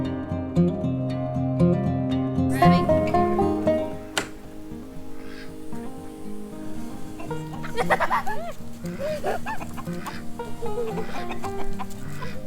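Chickens cluck and a rooster calls on a farm stay in the Ozark Mountains near the Buffalo River. Repeated clucks and squawks come up close over a busy background where voices may be faintly present.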